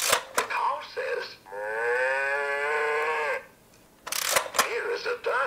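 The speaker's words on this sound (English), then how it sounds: "Cow says." A cow's moo, a single sustained harmonic low call lasting nearly two seconds, loud and close, with brief bursts of human speech before and after it.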